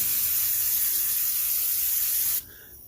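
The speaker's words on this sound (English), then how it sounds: "go ahead and spray these real quick" A handheld spray bottle mists water onto plants in a steady, close hiss lasting a couple of seconds before cutting off abruptly.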